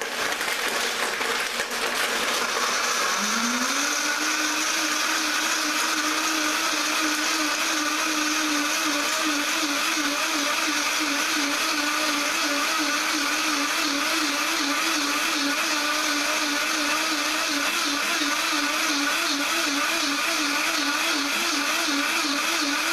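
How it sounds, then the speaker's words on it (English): A Vitamix Pro 750 blender starts up and runs at a steady, loud, high-pitched whir with a constant motor drone. The sound holds level for about twenty seconds and no voices are present. "Here's the Pro 750. This would represent any of the next generation Vitamixes that you're looking at."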